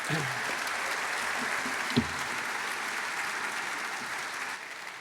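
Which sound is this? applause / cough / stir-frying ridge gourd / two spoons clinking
applause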